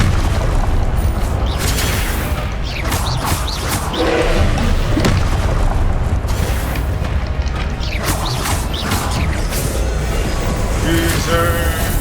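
Confringo blasting spells in Hogwarts Legacy go off as loud booming explosions over a dense, continuous wash of combat noise, with a voice calling out spells.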